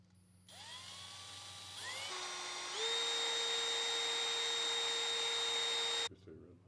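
A machine cutter whines steadily while a few thousandths are taken off a small Yamaha Superjet carburetor part, the pitch stepping up twice before it holds a loud, even tone and stops abruptly.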